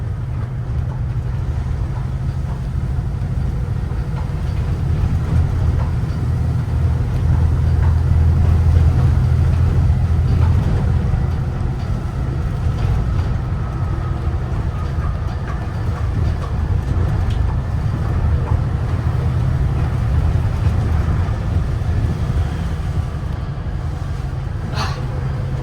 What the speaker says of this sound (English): It makes some really good noises, and I love the engine sounds.